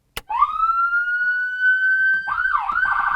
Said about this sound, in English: Also automatically engaged is the vehicle's siren tone.